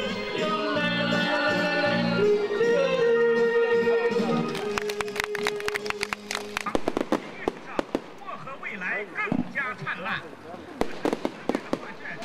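Fireworks burst at a festival in Beiji Village, China, a rapid string of sharp cracks and pops in the open air following a stretch of music and voices, the bangs irregular and spread out toward the end.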